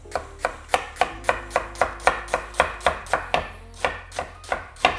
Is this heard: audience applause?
no